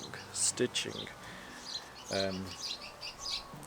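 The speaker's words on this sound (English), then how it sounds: "Bloody birds. They love this bush here, don't they?" Small birds chirp and tweet from a bush beside someone outdoors, giving short, bright, high calls in scattered bursts, fairly close, with a few low murmurs of a voice mixed in.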